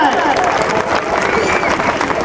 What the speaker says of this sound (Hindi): एक बार बहनों के लिए जोरदार तालियां हो जाए